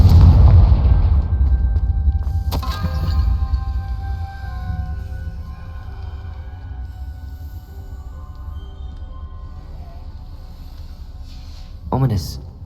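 A Confringo blasting spell goes off in Hogwarts Legacy, a loud booming explosion at the start that rumbles and decays over several seconds, followed by sharp impact cracks and a second smaller burst near the end.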